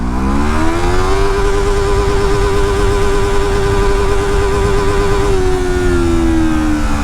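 A Jedi Motor K-333 twin-cylinder sports bike revs hard in first gear. The engine note climbs quickly, holds a loud, steady high pitch near the limiter for several seconds, then eases off slightly at the end. No voices are heard.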